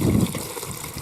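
Water pours into a pot of barley groats in a taiga cabin, a short gushing splash that is strongest at first and then settles into a softer trickle.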